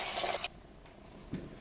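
Water being poured into a bowl of sourdough starter for Tartine-style country sourdough dough, a short bright splashing pour for about half a second, then quiet room tone with a faint soft bump.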